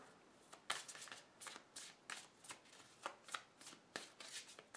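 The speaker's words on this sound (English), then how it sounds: "Let me give these a good shuffle" Tarot cards being shuffled in a series of quick riffling bursts, crisp and close, repeating irregularly over a quiet background.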